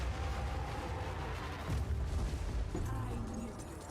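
A heavy explosion in the action RPG Path of Exile 2, heard as a dense rumbling boom with crackling bursts over a busy, loud game background.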